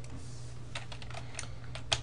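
A short command is typed on a computer keyboard in a Linux terminal, with a handful of crisp, close keystrokes over a steady low hum and one sharper final press at the end.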